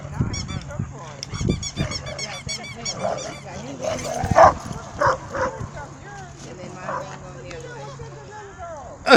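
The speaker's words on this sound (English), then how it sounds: "Got a bunch of dogs out here." Several dogs bark and yip in a busy outdoor dog park, with short sharp barks from more than one animal scattered through the clip and people talking alongside them.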